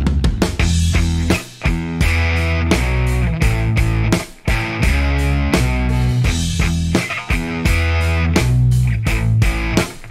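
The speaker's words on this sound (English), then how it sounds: "And I've got this electric guitar, which sounds like this currently." An electric guitar recorded in a DAW plays a steady, heavily distorted rhythm part, loud and continuous with a few short breaks, with no voices.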